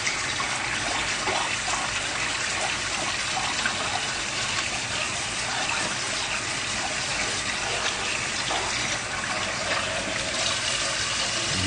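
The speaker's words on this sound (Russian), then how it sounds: "посуду помоем пока" A kitchen tap runs continuously while dishes are washed, a loud, steady gush of water with faint clinks underneath and no pauses.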